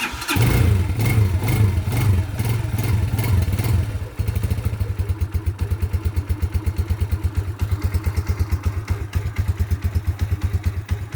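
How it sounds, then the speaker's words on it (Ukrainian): A cold Musstang Fortuna 200 motorcycle is started with the choke off. It cranks and catches with a rough clatter, then settles after about four seconds into a steady, rapidly pulsing single-cylinder idle, loud and close. "Зараз він повністю холодний, але зараз спробую завести без підняття повітряної заслонки."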